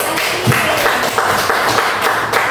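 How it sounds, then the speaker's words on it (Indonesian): A crowd claps steadily, a dense patter of applause that continues evenly throughout. "tepuk tangan dulu untuk"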